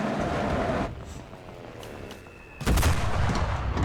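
Artillery fire in the WWII shooter Enlisted, on the Soviet side of the Beloe Lake map: a sustained battlefield rumble drops away, then one heavy, loud blast hits and its roar carries on to the end.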